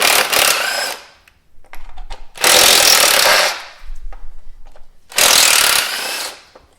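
An electric impact wrench drives off ignition coil bolts on a Dodge Neon in three loud, close hammering bursts, each about a second long, separated by short pauses with faint clicks.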